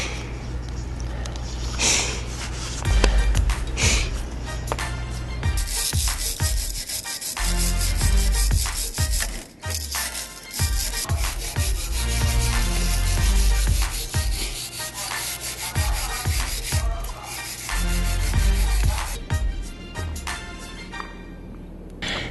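Rust flakes are scraped off the metal of an RV, a steady rasping scrape with repeated strokes and short pauses, close and moderately loud throughout.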